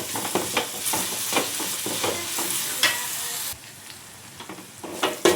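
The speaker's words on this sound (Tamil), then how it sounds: "அப்பப்போ பார்த்து வதக்கிக்கோங்க. கீழே பிடிச்சிடாமல் வதக்கிக்கோங்க." Tomatoes sautéing in a pan over full flame for a crab kuzhambu, stirred often with repeated scraping strokes over a busy sizzle that drops quieter near the end.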